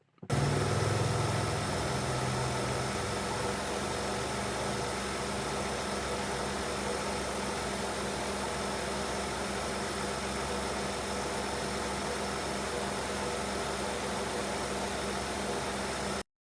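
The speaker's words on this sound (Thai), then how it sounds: "เกียร์เครื่องยนต์สมบูรณ์มากๆนะครับ เดินนิ่งเรียบนะครับ สตาร์ทติดง่าย" A 2002 Nissan Cefiro A33 with a 2.0 engine and automatic gearbox idles steadily and evenly, a constant low hum with no talking, holding the same level throughout.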